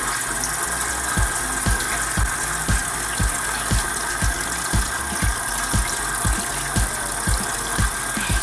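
A tap runs close by while a makeup brush is wetted for washing with Elf brush shampoo, a steady rush of water with a rhythmic pulsing knock repeating about every half second.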